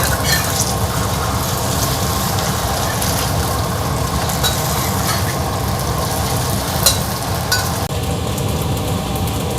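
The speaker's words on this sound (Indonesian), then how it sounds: "Aku mau goreng, ini olive oil ya" Loud, steady sizzling and crackling of food frying in hot olive oil, close up and continuous with occasional sharper pops.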